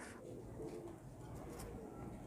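Soft, low cooing of high flyer pigeons inside a loft, faint and murmuring throughout.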